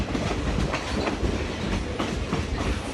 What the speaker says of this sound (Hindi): ट्रेन जो है वो पहाड़ों के दरमियान से, जंगल के दरमियान से और वादियों के दरमियान से होती हुई जा रही है